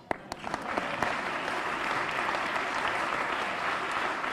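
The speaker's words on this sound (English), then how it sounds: "Applause." An audience at an honoree ceremony breaks into sustained applause, a dense, steady clatter of many hands clapping that starts abruptly and holds at an even level throughout, with no talking.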